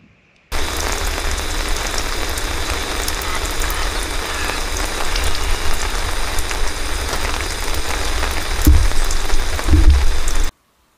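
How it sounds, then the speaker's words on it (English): Rain falls steadily on a lakeside campsite in the morning, a dense close patter on surfaces that holds evenly throughout, with a couple of heavier thumps near the end and no talk. "It's probably been raining since 3 o'clock"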